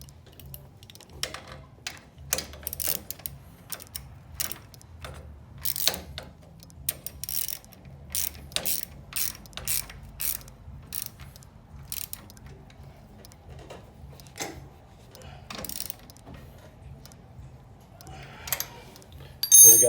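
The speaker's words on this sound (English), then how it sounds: "We'll just go ahead and put the nut on the bottom and tighten it up." Nut being tightened with a 14mm socket and wrench while fitting a kickstand extension kit to a Yamaha Bolt or SCR950 motorcycle: close, quiet metallic ratcheting clicks and taps in an irregular rhythm, with a louder clatter at the end.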